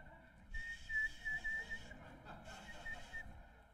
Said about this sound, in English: You know how you learn to whistle without your lips?